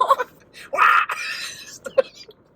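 A voice imitates a shrill screeching noise: a short wail-like cry sliding in pitch, followed by a longer strained squeal and a brief sharp yelp, loud and close with no other sound around it.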